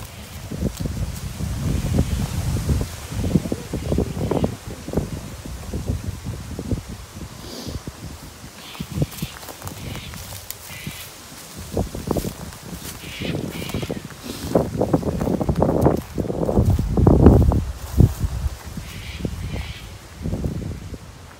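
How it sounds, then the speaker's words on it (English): Wind gusts outdoors at Jugiong Cemetery, producing uneven low rumbling buffets and rustling that rise and fall without pause. "there's a lot of wind around"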